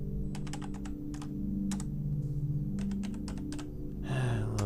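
Typing on a slightly dirty computer keyboard, bursts of quick close keystrokes with short pauses, set against a steady background hum.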